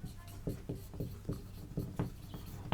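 Chalk or marker strokes on a classroom board during a Class 12 physics lesson, a rhythmic series of short scratchy taps and strokes close by, with no talking.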